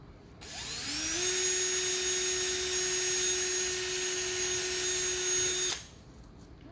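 A power drill bores holes in quarter-inch wood, its steady high-pitched whine rising quickly, holding for about five seconds close up, then stopping abruptly.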